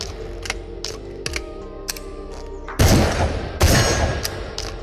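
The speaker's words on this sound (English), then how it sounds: "The IZH-27 sawn-off shotgun." An IZH-27 sawn-off shotgun in the game Into The Radius: clicks and mechanical handling, then two loud, close blasts in quick succession, each with a ringing tail.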